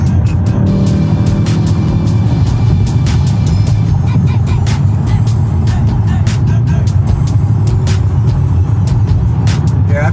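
A Mercedes-AMG E63s sedan engine roars loudly from inside the car as it accelerates through the gears, a dense, sustained rumble with rapid tick-like clicks layered above and no talking.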